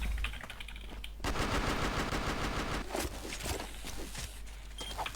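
Rapid automatic gunfire from a shooting video game, with sustained machine gun bursts and scattered single shots, fairly quiet and steady, mixed with clicking keyboard keys and no clear talking.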